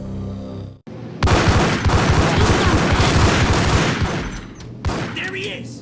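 Rapid gunfire erupts in a Max Payne shootout, a dense, loud stream of overlapping shots and bursts that runs for several seconds, then cuts off briefly before another shot rings out.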